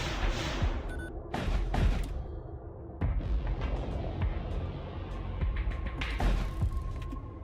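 Missile and weapon fire in the space combat video game Void War, a series of sharp booming impacts and bursts at irregular intervals over a dense, continuous rumbling game soundscape.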